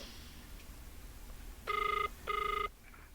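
A cellphone rings in two short bursts of a bright electronic ringtone, fairly close, after a stretch of quiet room noise.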